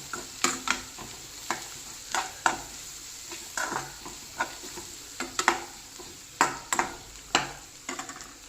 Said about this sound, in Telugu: పసుపు కూడా వేసి బాగా కలబెడదాము.